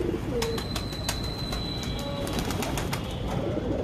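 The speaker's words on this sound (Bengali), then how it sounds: "এখন কবুতররা পানি খাচ্ছে।" Pigeons on a rooftop drink water, giving soft coos amid a run of light clicks and taps over steady outdoor background noise, close and fairly quiet.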